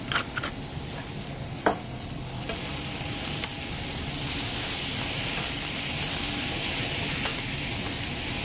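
Corned beef hash frying in oil in a pan, giving a steady, dense sizzle throughout with a sharp scrape or clink near the start.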